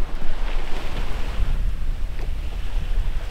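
Wind gusting hard against the microphone over the rush and slosh of sea swell around a sailing boat at sea on the Baltic, loud and continuous, no talking.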